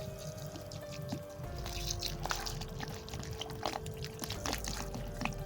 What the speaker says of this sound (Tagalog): Lagyan mo muna ng tubig.